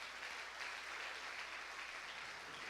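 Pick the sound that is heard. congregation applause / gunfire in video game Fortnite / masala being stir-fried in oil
congregation applause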